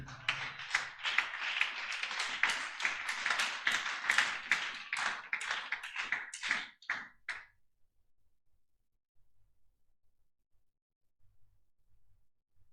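A church congregation claps in quick, rhythmic unison for about seven seconds, then stops, leaving near silence. No cheering voices stand out.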